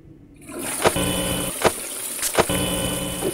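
A toilet flushes in the horror video game Five Nights on the Toilet, a loud rushing gush of water that starts abruptly and keeps churning, punctuated by a few sharp clunks and knocks.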